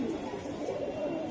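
Racing pigeons, club racers and Budapest birds kept for sale, give a soft, steady cooing and fluttering murmur throughout, moderately close with no clear talk.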